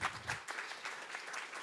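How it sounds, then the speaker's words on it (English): Brief, faint applause from the audience at a climate tech event as the moderator is welcomed onstage, scattered clapping in a soft wash. "Let's give a clap for Thomas."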